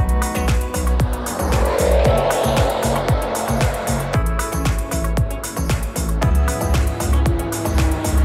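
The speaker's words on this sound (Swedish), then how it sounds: "Vi var iväg på Time Attack på Gelleråsen och körde med Colten," Race cars, including a Colt, a Focus and a Mercedes, lapping in a time attack event at Gelleråsen circuit, with loud engine droning, rapid gear changes and tire squeal, continuous and close.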